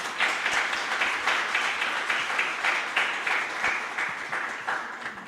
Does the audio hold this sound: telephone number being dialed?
no